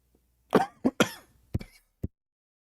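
A man coughs several times at close range, a cluster of harsh, throaty bursts with a little throat clearing between them and a final short cough, set against near silence.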